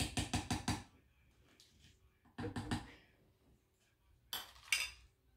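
Potato salad mixed in a bowl, a spoon knocking rapidly against the sides in three short clattering bursts separated by near-silence, close but soft.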